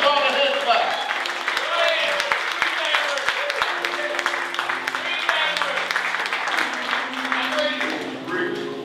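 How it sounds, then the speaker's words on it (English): A church congregation claps its hands together in steady applause that carries on throughout, with voices calling out and speaking over it. "Give God a hand clap."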